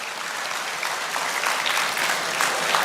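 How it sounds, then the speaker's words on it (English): A hall audience at a 2024 graduation ceremony of the Kanachur Islamic Education Trust applauds the faculty with dense, steady clapping. It holds at an even, moderately loud level throughout, with no speech over it. "Can we have a huge round of applause for them?"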